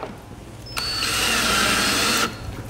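Power drill driving a kit-supplied self-tapping screw into a kayak hull, a single close, loud whine lasting about a second and a half before stopping abruptly, with quiet room tone around it.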